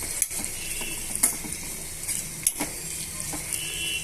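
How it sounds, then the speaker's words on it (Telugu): Onion pieces and green chillies with turmeric frying in a pan, heard as a steady close sizzle with periodic sharp clicks and scrapes of a utensil stirring. "ఇలా ఉల్లిపాయ ముక్కలు పచ్చిమిరపకాయ ముక్కల్ని ఇలా బాగా కూడా వేయించేసుకుందాము"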